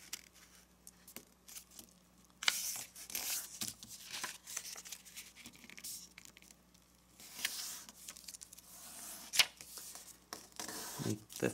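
Origami paper being folded and creased by hand for a flasher envelope, a series of soft crinkles, scrapes and sharp creasing swipes in irregular bursts, quiet and close with no talking.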